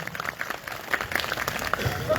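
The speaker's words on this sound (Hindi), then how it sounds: "जोरदार तालियों में स्वागत करेंगे" An audience at a Hindu Bhagavat Katha religious discourse claps in a steady, diffuse wash of applause, moderately loud and continuous, with a voice faintly audible underneath.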